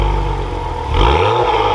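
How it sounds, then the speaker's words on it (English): Engine of a 2024 Acura TLX Type S starting and its exhaust note, a steady low rumble that swells in a short rev near the end, close and fairly loud with no talk. "let's start this back up and we'll take a listen to that exhaust"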